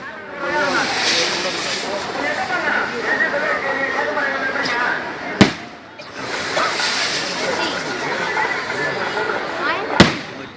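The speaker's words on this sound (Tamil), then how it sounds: "வெடி வழிபாடு பாருங்க." Firecrackers burst at a Tamil temple fire-walking festival on an Aadi Friday: dense crackling and hissing runs throughout, punctuated by two sharp loud bangs, one midway and one near the end.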